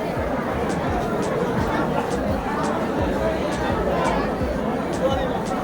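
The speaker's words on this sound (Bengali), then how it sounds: "কত ভিড় দেখো শিয়ালদা স্টেশনে প্রচুর লোক" Dense crowd chatter fills a busy Sealdah railway station, many overlapping voices forming a constant, close hubbub with scattered faint clicks.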